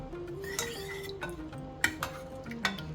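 Green mango pieces and green chillies dropped into mashed dal in a metal pot: soft clinks and scraping of a utensil against the pot, with a few sharper taps and knocks, close and fairly quiet, with no voices.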